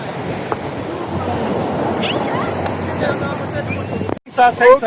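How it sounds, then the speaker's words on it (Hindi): Steady roar of rough ocean waves and wind on a beach in Bujumbura, Burundi, loud and continuous, cut off near the end by a voice speaking. "बहुत ज़्यादा लहरें उठ रही हैं।"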